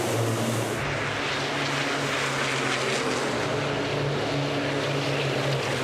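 Racing trucks in a reverse-grid race at the Le Mans circuit, heard from the grandstand: a loud, continuous engine roar that holds steady throughout with no voices.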